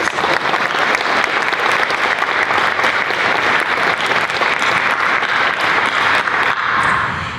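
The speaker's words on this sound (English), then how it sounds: "Please, a round of applause for all of you." A room of attendees at a congressional briefing for a foster youth internship program breaks into steady, sustained applause, dense clapping filling the space throughout and tapering slightly at the very end.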